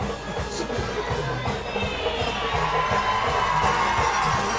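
Crowd at a high school football game between Ellwood City and Beaver Falls, cheering and shouting loudly and continuously, with excited voices rising together in a large outdoor stadium.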